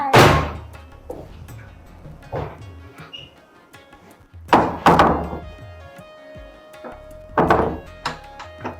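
A house door is shut and locked from inside, giving several heavy thuds and knocks spaced over a few seconds with faint clicks between them.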